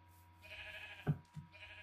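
A sheep in a video game bleats a few times in short wavering calls, fairly quiet and close, with a brief bump of another game sound between them.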